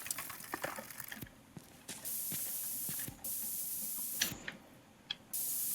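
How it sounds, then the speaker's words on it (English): A spray tool in a space outpost video game hisses in long steady bursts, refilling with water, interrupted by short clicks and gaps at a quiet level. "Heat ice crystals with your laser to refuel your spray tool"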